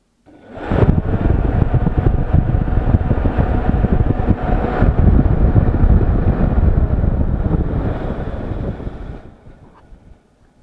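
An electric radiator cooling fan fitted to a BMW E39 M5 with the S62 V8 spins up on battery power, giving a loud, steady whooshing roar of moving air that fades away as it winds down near the end.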